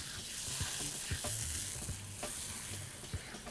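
Spicy Chinese eggplant sauce with soy sauce, rice wine vinegar and sugar sizzling quietly in a pan, a soft steady hiss broken by a few light taps as peppercorns drop in and are stirred, with no voices.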